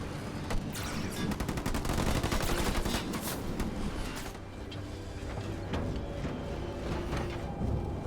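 Spartan minigun fire in Halo Wars 2: a long rapid rattling burst of automatic fire, dense and loud, then easing into scattered shots and battle noise.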